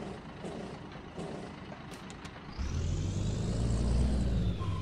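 Volvo FH16 540 truck backing up in Euro Truck Simulator 2, a steady diesel drone that swells into a louder, deeper rumble midway, with faint hiss and brief tonal blips above.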